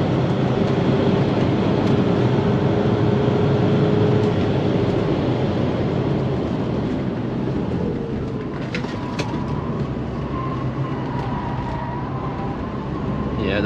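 Car engine at sustained high speed on a track, around 180, a loud steady roar with heavy wind and road noise, tires under strain, no talk.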